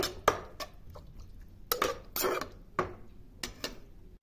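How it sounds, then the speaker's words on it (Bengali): Vegetables being stirred in a pan with salt and sugar just added, giving sharp spoon-on-metal clacks and scrapes at an uneven rhythm, close up and moderately loud, with no talking. "দিয়ে আরেকবার নাড়াচাড়া করে নিলাম।"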